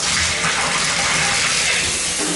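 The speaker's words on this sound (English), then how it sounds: "You can hear the water pressure is terrific." Water gushes hard and steadily from a bathtub tap, a loud continuous rushing that fills the whole clip.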